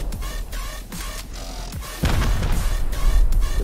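Helicopter in the video game Rust firing rockets: a dense, continuous wash of rotor roar and repeated booming launches, growing louder and heavier partway through, with no talking.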